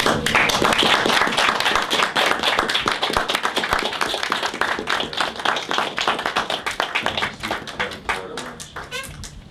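Applause at a town select board meeting, a small group clapping in brisk distinct claps that carry on steadily before thinning to a few scattered hands.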